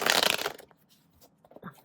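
Tarot cards are shuffled close up in a quick papery riffle that fades within half a second, followed by soft slides and taps as cards are drawn and laid down.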